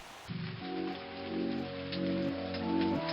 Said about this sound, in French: la pluie ruisselant sur son visage